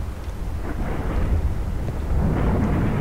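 Steady rain with low rolling thunder fills a stormy night in the horror game Pacify, a dense continuous rumble that swells slightly toward the end, with no talk.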